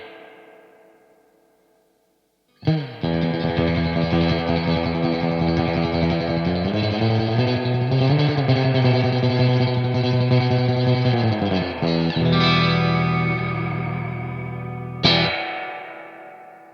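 Analog spring reverb and tremolo pedal on a guitar, sustained chords swelling with a wet, drippy spring splash, a brief silent gap early on and a sharp strum near the end ringing out in reverb.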